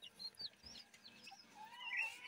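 Japanese bantam and English game chicks and their parent chickens give short, high cheeps and clucks, several brief calls scattered over a soft background with no talk.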